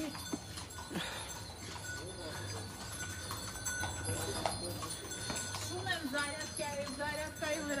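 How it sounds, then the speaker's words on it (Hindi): Hooves of Armenian horses clip-clop on a cleared lane at an outdoor film shoot, a steady irregular clatter set against crowd noise and a low hum, with people talking throughout. "ये है आर्मेनियन घोड़े"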